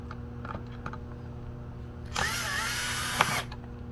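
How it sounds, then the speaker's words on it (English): An electric screwdriver whirs in one sustained burst of about a second as it drives a screw to close a small DIY PLC trainer box, close and clear, after a few faint clicks and handling taps against a low steady hum. "with the 4 screws right here, we pick up a screwdriver"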